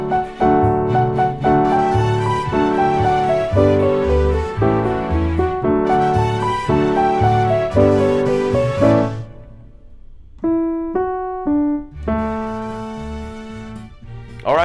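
Solo piano plays the intermediate-level intro to a song from Coco: full chordal phrases for about nine seconds, then a brief quieter pause with sparse single notes, before the chords resume.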